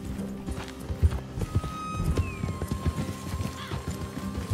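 Horse hooves clip-clop in Red Dead Redemption 2, a steady uneven trot of several hooves close by, with a faint tonal whine and ambient hum behind them and no speech.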